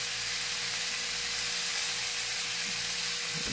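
A rare steak cooks on a plugged-in cooker, giving a continuous soft sizzle and hiss over a low electrical hum, with no one talking.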